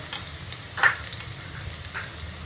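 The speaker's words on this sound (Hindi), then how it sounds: "ये लहसुन के पेस्ट को हम थोड़ा सा फ्राई कर लेंगे" Soft, steady sizzling of garlic paste frying in hot ghee, with a brief louder crackle or stir near the middle; quiet and close, no voices.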